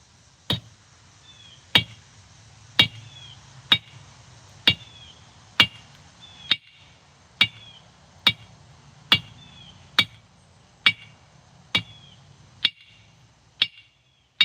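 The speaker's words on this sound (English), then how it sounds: "lay your piece flat on the anvil, and then you're going to raise it up slightly." Sharp metallic hammer blows glance at an angle on a metal taper laid on an anvil, landing at a steady, slow rhythm, each strike ringing briefly, with no talking.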